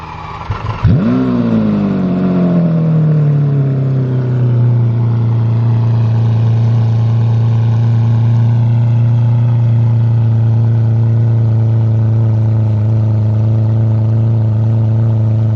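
A Lamborghini Aventador SV fitted with a race exhaust fires up from cold, with a sharp starter bark that flares loudly and then settles into a steady, deep, raised idle, heard close with no talking.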